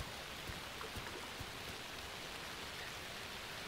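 Rain falls steadily in the video game Alan Wake II, a soft, even hiss of downpour with faint scattered drop taps, heard alone and at low volume.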